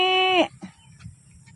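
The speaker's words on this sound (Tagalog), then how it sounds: "Pupuntahan natin yung kambing." A single loud, close goat bleat lasting under half a second, with a bright wavering tone, followed by quiet outdoor rustling and soft background noise.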